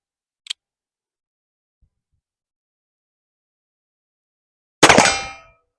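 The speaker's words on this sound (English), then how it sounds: "So let's shoot this thing at 25 yards on steel." A shot from an M1861 Spiller & Burr revolver fired at a steel target 25 yards away: one loud, sharp report with a brief ringing tail, preceded by a faint short tick, with silence between.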